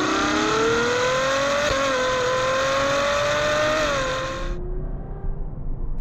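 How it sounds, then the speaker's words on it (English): Ferrari 812 Superfast V12 with a Novitec back box and Capristo cross pipe, revving hard and close with a rising, raspy howl for several seconds before the throttle lifts and the note drops away. "this one has got a Novitec back box and it's got a Caprista cross pipe, so it sounds fantastic"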